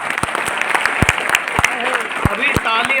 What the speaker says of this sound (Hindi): अभी ताली आपने जल्दी बजा दी